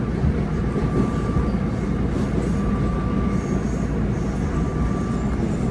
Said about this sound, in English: There's that train to Boston later.